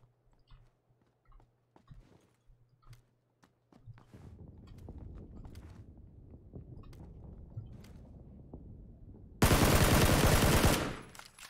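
Gunfire in the PUBG video game: scattered sharp single shots and footstep-like clicks, then a sustained dense rattle of continuous fire and a very loud burst near the end.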